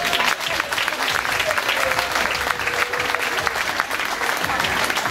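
Audience applause for a speaker at a German village Kerwe fair, a continuous dense wash of clapping from a sizable crowd that keeps an even level from start to finish.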